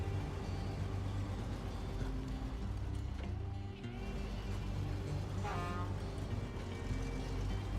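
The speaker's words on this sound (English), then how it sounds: "love that sound. The sound of the truck." In the SnowRunner game, a Scout 800 truck engine idles and rumbles with a steady low drone, with faint mechanical clatter and a brief higher tone on top.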